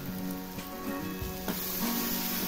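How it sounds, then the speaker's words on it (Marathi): Ground masala with turmeric sizzles and crackles steadily in hot oil for egg curry, with a few faint stirring scrapes along the way. "आता मसाला चांगला भाजलेला आहे, तेल सुटलेला आहे."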